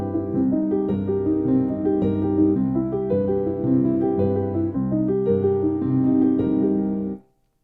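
A piano plays a seventh chord with the left hand arpeggiated beneath it, rolling notes flowing evenly for about seven seconds before cutting off cleanly, close and clear.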